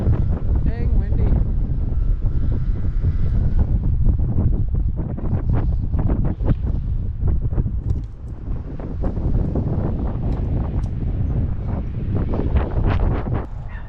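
Gusty wind blows outdoors around a tree, rumbling steadily into the microphone throughout, with people talking intermittently over it.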